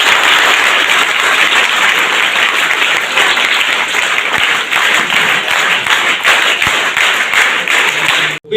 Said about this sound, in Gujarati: હું ઈચ્છીશ કે બધા એમની માટે એક વખતે તાળીઓનો ગડગડાટ કરીએ